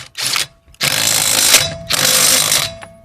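A RIDGID GEN5X impact driver rattles loudly up close while running a lug nut back on, three bursts of hammering: a short one, then two longer sustained runs separated by brief pauses.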